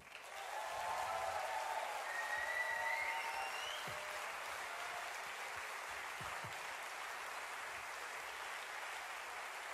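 Concert audience applauding the band, a broad, sustained roar of many hands clapping at a steady, moderate level, rising briefly early and then holding evenly, with a few faint voices and whistles mixed in.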